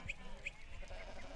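A flock of sheep and goats on the move along a muddy track, with a few short bleats rising over a faint, muffled background, some nearer and some farther off.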